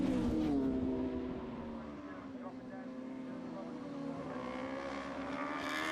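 Road racing motorcycles at the Armoy Road Races roar past with a loud, sustained high-revving engine whine that shifts in pitch as they go by. A commentator talks over the engine noise.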